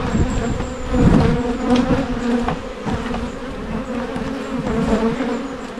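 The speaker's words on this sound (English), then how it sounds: "lots and lots of bees" A dense swarm of honeybees crowded into a hive with no spare room, buzzing continuously and loudly up close, a steady droning hum that swells and eases slightly throughout.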